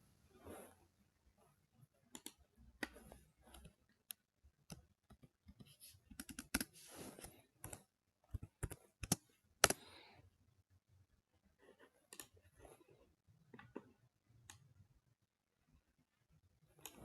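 Quiet, irregular clicks of a computer keyboard as a command is typed, in short bursts and single taps with pauses between, close and faint.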